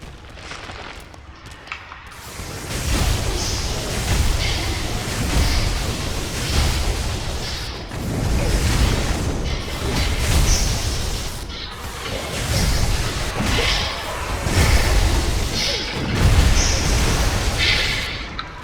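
Explosion in Dark Souls III, heard as a series of loud booming blasts and rumbling bursts that come in waves for a long stretch, with no speech.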